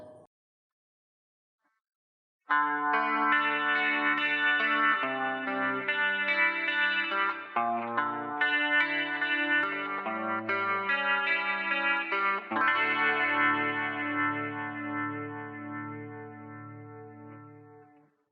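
An electric guitar on a Line 6 Helix with Variax plays a chordal passage with a shimmering, swirling modulation and a lush reverb tail that rings out at the end.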